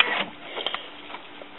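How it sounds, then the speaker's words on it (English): A Canon MX or MG series inkjet printer, just powered on with its lid open, runs its cartridge assembly across the carriage, giving a faint whirring motor sound with a few soft clicks. "let the cartridge assembly come over"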